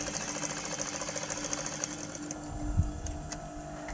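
A sewing machine stitches a pant flap, joining two separate pieces of fabric. It runs as a steady, close mechanical whir with a fast rhythmic chatter, then eases slightly near the end.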